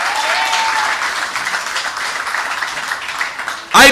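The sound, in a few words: crowd applause at political rally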